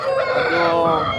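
An Aseel rooster about one and a half years old crowing at a poultry market, a loud, close, sustained crow that fills the moment without talk.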